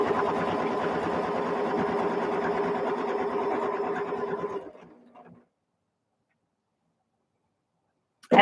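A sewing machine stitching quilt binding on a 100% cotton quilt with thin batting, running at a steady fast rattle for about four and a half seconds before winding down and stopping into silence.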